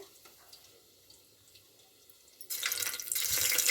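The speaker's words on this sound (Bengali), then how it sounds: "তার জন্য সরিষার তেল দিয়ে দিলাম প্রেসার কুকারের মধ্যে।" Mustard oil poured into a pressure cooker while cooking meat for biryani: a quiet room tone gives way about two-thirds through to a loud, steady liquid hiss and patter, with no voices.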